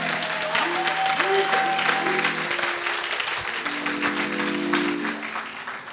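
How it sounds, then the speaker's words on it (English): A church congregation applauds during a Good Friday service, a sustained wash of clapping that runs the whole time while an organ or keyboard holds chords underneath. "Pastor Maxwell, let's put a round of applause together."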